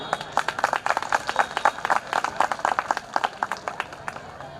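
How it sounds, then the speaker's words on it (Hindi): An audience at a Bhima Koregaon Shaurya Diwas poetry gathering claps, with dense, fairly steady rhythmic applause that carries on for several seconds and is moderately loud. "एक बार तालियों से आदेशित करें।"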